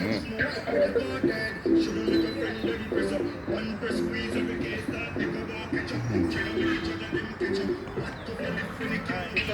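Birds coo at a bird sanctuary on a nature trail in Portland, Jamaica, with soft repeated calls and chirps mixed into steady outdoor noise while people talk nearby.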